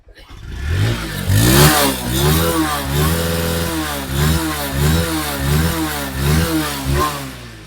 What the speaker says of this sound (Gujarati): આનો પણ એન્જિનનો વોઇસ તમને રેસ કરીને બતાવી દઉં